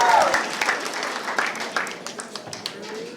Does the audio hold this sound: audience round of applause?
yes